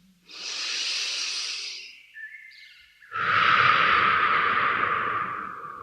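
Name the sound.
deep breath in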